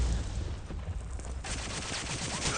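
Dense gunfire in Day of Defeat, played with Sturmbot bots on the Overlord map, crackles as steady rapid bursts, and the volley grows sharper and busier halfway through.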